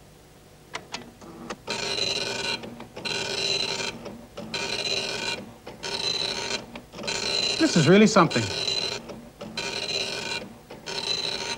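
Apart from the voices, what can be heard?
computer printer printing a document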